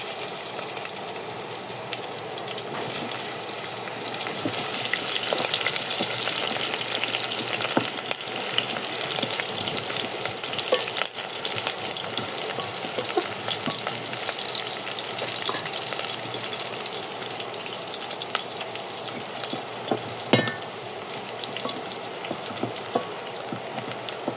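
Onion and chillies fry in a pan for bhuna khichuri with chicken, producing a dense, continuous close-up sizzle with faint crackles and stirring noises throughout, no voices.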